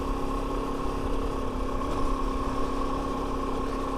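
A Kove 450 Rally motorcycle running on a dirt trail, its engine holding a steady, even drone with a humming tonal note and no voices over it.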